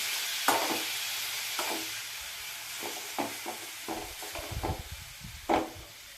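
Onion, tomato and ginger-garlic paste being stirred in a hot pan, with a steady sizzle broken by spoon scrapes and knocks against the metal that come in irregular bursts, louder toward the end.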